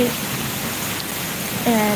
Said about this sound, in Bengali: এই বৃষ্টির ঝড় এমন যে এমন লাগে ভালোই লাগে